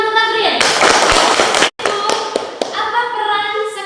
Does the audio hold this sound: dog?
no